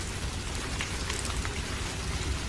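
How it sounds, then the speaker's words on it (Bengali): Rain falls steadily outside during a storm, a dense, even hiss of drops striking surfaces that stays constant throughout, with no voices. "বাহিরে ঝড় বৃষ্টি হচ্ছে।"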